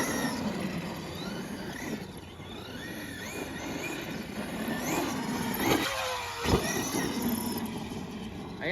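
A Traxxas E-Revo 2.0 RC car on an 11-tooth pinion running Traxxas lipos drives about, its electric motor whining in rising and falling sweeps over a steady rough rumble, with a sharp knock near the end.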